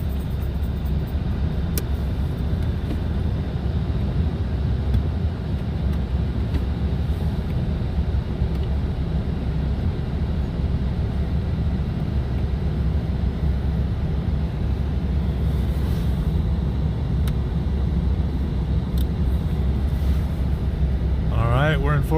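A Toyota Tacoma pickup in four-wheel drive pushes through a snowstorm, a constant low engine and road rumble under heavy wind buffeting for the whole stretch.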